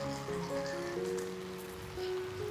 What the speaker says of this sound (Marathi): पाऊस पण मस्तपैकी लागला आहे बघा